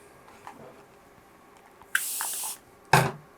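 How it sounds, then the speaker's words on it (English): Two quick spritzes of water from a spray bottle onto embroidery on a plush item: a longer hiss first, then a shorter sharp burst a moment later, close and fairly loud in a quiet room. "you are going to spritz it with some water"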